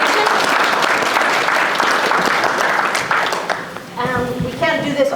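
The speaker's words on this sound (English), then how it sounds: "We can have a quick round of applause to show our appreciation." A conference audience gives a round of applause for a panel discussion. The dense, loud clapping is sustained and fades slightly toward the end as a voice begins to speak.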